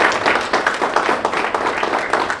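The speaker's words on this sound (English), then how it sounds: "A big round of applause for the media." Audience applauding at a Ring Wars 22 press conference in the El Paso County Coliseum, a steady patter of many hands clapping at moderate distance, continuous through the moment with no talk over it.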